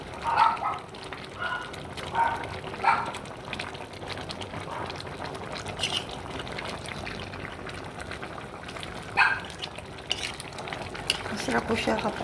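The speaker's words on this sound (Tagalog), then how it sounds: "Halo-haloin po natin hanggang sa malambot na yung ating white beans." White beans and pork ribs are stirred in a pot, with repeated scraping and clinking strokes over a soft bubbling simmer, close by and in bursts.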